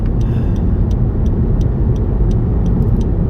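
A 2017 Honda Civic on Michelin 235/45 tyres rounds a roundabout, giving steady, close road and tyre rumble with low engine drone throughout, lightly ticking along without any pause.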